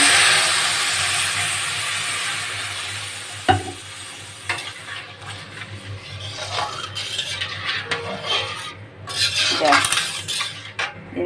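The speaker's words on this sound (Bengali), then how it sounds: "জলটা দিয়ে দিই।" Water poured into semolina in a cooking pot, with a sharp metal clink and then steady scraping and stirring of utensil against pot, hissing sizzle behind, no talk.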